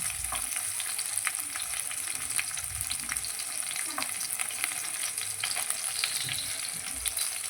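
Fenugreek leaves and chillies fry in a pan with a steady, even sizzle and crackle that runs the whole time, with occasional soft stirring movements.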